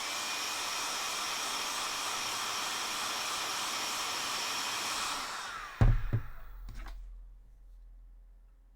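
A heat gun blows hot air in a loud, even, close roar that holds for several seconds, then cuts off. A few knocks and clunks follow as the airflow dies away, with no speech.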